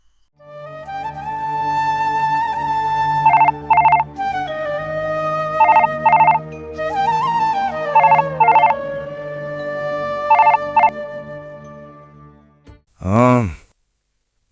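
A phone rings with repeated electronic ringtone bursts in a steady pattern, loud and close, followed by a short sigh-like sound at the end, with no one speaking.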